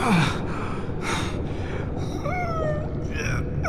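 A character in the Guardians of the Galaxy game gasps sharply, then breathes heavily in ragged pulls over a steady loud ambient hum with tonal sci-fi effects.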